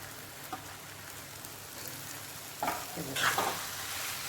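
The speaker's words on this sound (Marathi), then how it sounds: "त्यामध्ये आता हे कोथिंबीर घालून घेते आणि मिक्स करून घेते" Coriander being stirred into roasted eggplant bharit in a kadhai, a soft steady sizzle and scraping stir that grows louder and busier near the end, with no voices.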